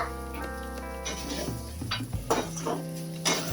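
Schezwan fried rice is stir-fried in a pan on high flame, with metal spatula scrapes and clinks against the pan in irregular bursts over a soft steady sizzle, close and moderately quiet.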